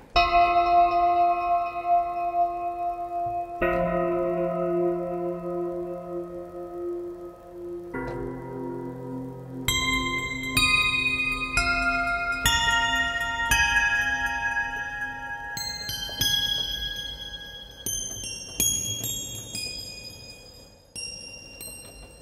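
Dream Bells 1 patch from the NADA sample library by Eduardo Tarilonte and Best Service: successive struck bell-like tones with long shimmering decays, first low and sustained, then layering into a busy, bright cascade of chiming high notes.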